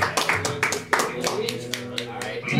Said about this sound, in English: Applaud even if you don't like it.